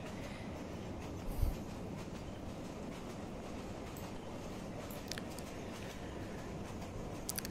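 The Subarna Express train rumbles across a bridge, giving a steady, faint rolling clatter of wheels on rails with occasional light squeals and clicks.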